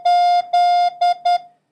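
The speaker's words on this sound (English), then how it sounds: "The question mark is diddy da da diddy." Morse code question mark sent as steady electronic tones: two short beeps, two long, two short, though the picture shows the tones running together into four clean pulses, alone and clear.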